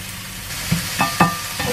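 Mixed vegetables sizzle in melted butter in a frying pan, a steady crackle broken by a few louder stirring scrapes near the end, close and without any voices.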